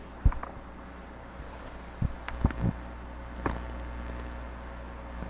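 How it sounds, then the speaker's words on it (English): A computer mouse gives a handful of sharp, isolated clicks, single and in quick pairs, against a quiet, faintly hissing room. "After this we click continue, and we click OK."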